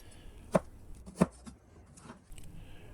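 A knife slices through a carrot on a cutting board, two sharp distinct chops about half a second apart, close and clear, followed by fainter scraping.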